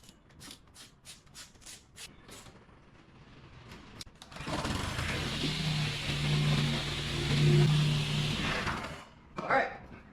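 A piece of lawn equipment with a fuel-starved engine is cranked after a run of rapid rhythmic pulls, then sputters into a rough, loud running roar for several seconds before cutting out with a final burst.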